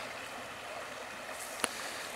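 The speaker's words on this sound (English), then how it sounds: "the first thing I saw when I got up this morning is this beautiful little stream right here" A small flowing stream in a wilderness setting, a steady soft wash of running water throughout with one brief sharp tap near the end; no voices.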